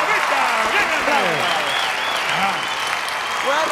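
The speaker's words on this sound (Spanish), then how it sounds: "¡Un aplauso para Vista!" A comedy show audience applauds a guest, dense steady clapping throughout while a host's voice calls out over it.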